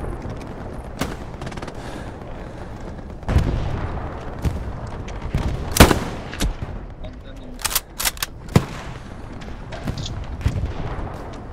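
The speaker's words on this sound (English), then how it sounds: "Not mortar, anti-tank gun." Heavy anti-tank gun fire in the WWII shooter Hell Let Loose, a few loud booming shots standing out around the middle against a steady backdrop of distant battlefield gunfire.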